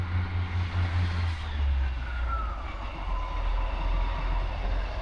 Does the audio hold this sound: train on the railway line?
yes